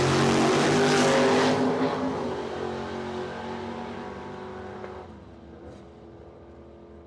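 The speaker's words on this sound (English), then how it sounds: "Piling that Camaro, Freedom Motorsports side, dialed in 711. Taking on Ryan Robinson, far side, dialed in 617" A Camaro drag car launches down the quarter-mile at Cordova Dragway, a loud engine roar that swells at the start, then fades steadily into the distance.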